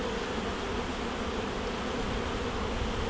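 Dense, steady buzzing of many honeybees around an open hive during comb building, a close, continuous swarm drone with no voices.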